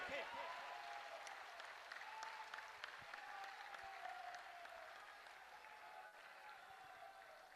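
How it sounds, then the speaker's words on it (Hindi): A large crowd at a Hindu unity march's closing gathering claps loudly and steadily for a young devotee, the applause dense and continuous throughout, with a faint voice and high tone running underneath. "जोर से एक बार इस युवा देशभक्त धर्म भक्त के लिए ताली बजाइए"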